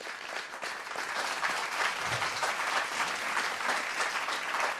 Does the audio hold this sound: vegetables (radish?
no